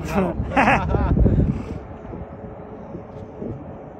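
A remote-control model Ryanair 737 Max airplane makes a pass in strong wind, giving a broad, rushing engine whoosh under people talking nearby.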